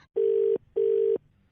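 Telephone line tone after a call is hung up: two identical steady beeps, each about 0.4 seconds long, separated by a short gap. Loud and clear, with nothing else heard.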